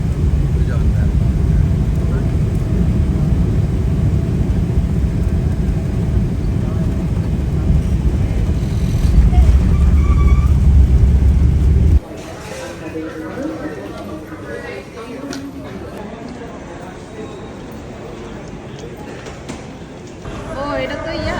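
Airliner cabin on final approach into Bangladesh, a loud, steady low engine roar that drops abruptly partway through, leaving a quieter hum under voices talking.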